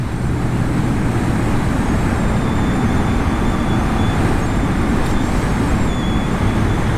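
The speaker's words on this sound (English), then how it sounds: "A little twist of the throttle and she's away." A Yamaha XSR900 motorcycle pulls away under a twist of the throttle, heard as a steady, loud engine roar mixed with wind and road rush, with no talking.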